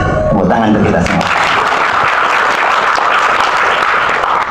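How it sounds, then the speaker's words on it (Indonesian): A voice trails off as a crowd at a Wimnus organization gathering breaks into loud, dense applause that carries on steadily to the end. "Tepuk tangan untuk kita semua."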